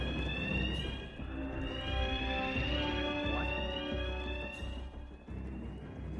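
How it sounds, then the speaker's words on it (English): An alarm goes off in the Hitman: World of Assassination video game, a loud, continuous blaring electronic tone with sliding pitch sweeps over low ambient rumble, with no talking. "The alarm's going off."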